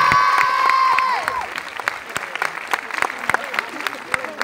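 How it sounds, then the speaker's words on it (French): An audience at a Lyon Brignais film premiere event applauds steadily, with clapping and a few cheers building over the crowd as a voice speaks over the start. "est-ce qu'on peut applaudir Gaëlle pour qu'elle nous rejoigne?"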